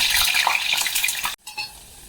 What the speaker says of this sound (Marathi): आपण हे बटाटे फ्राय करून घेणार आहोत छान सोनेरी रंगावर येईपर्यंत